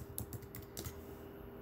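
Fingers tap out a short burst of typing on a computer keyboard, a handful of light clicks in quick succession followed by a brief pause, faint and close against a quiet room.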